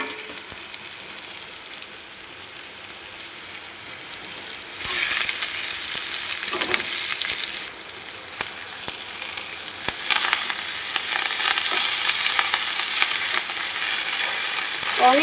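Bitter gourd and potato sizzle in oil in a pan, a continuous close frying hiss with occasional stirring scrapes that grows louder partway through.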